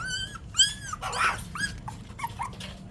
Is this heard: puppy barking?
yes